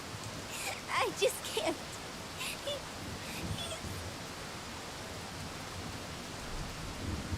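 Rain falls in a video game as a steady hiss of drops with faint rumbling underneath, continuous and fairly soft, while a brief spoken line breaks in near the start.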